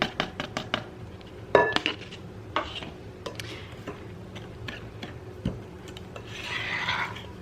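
Zucchini bread batter stirred in a bowl, giving a run of quick, close clicking and scraping taps with an uneven rhythm and a softer swishing stretch near the end.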